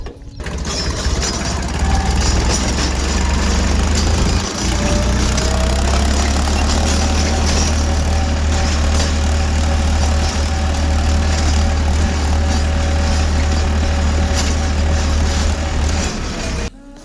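A tractor engine runs steadily for the whole stretch, a constant loud drone with a low rumble and mechanical rattle, close by, with no one talking.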